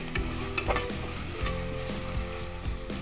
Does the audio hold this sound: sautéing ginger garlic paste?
yes